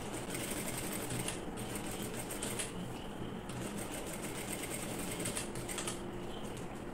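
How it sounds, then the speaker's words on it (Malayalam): A sewing machine stitches a neck design on fabric, whirring in close, rapid mechanical bursts with brief pauses between runs. "ഇനി ഞാൻ അര ഇഞ്ച് വിട്ടിട്ട് ഒരു സ്റ്റിച്ചും കൂടി ഇട്ട് കൊടുക്കുകയാണ് കേട്ടോ."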